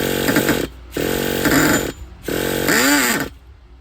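A Traxxas Nitro Slayer RC truck's small nitro engine is cranked in three loud, buzzing bursts, each a few seconds of harsh whirring separated by short pauses, as it tries to fire.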